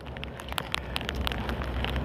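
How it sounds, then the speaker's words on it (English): Rain falling, a soft continuous patter with scattered crisp drop ticks and crackles over a low rumble, moderately close and steady, with no talking. "it's raining."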